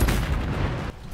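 A weapon fires in the video game Anthem, opening with a sharp blast followed by a dense, rumbling burst of gunfire that cuts off near the end.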